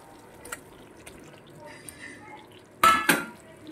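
Fried pointed gourd pieces go into a pan of cooked-down spices. Light scattered taps lead to two sharp, loud clattering hits close together near the end.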